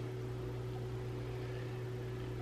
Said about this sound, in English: Sorry about the fan in here. I can't turn it off.